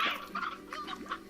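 Several short clucks from chickens in the video game Slime Rancher, fairly close and clear, with a slightly synthetic game-like quality, no talking.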